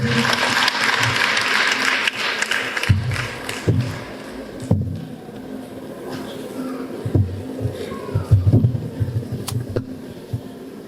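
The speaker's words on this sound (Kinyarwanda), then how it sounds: "Mubakomera amashyi." A crowd claps in a burst that fades at a church parade event at E.A.R Mukoni, followed by scattered sounds and a voice speaking over light background noise.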